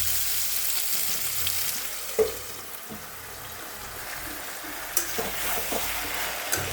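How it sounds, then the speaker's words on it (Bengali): Onions crackle and hiss in a hot pan, with a few sharp clinks of a utensil against the side. "পেঁয়াজটা হালকা একটু ভাজা হোক"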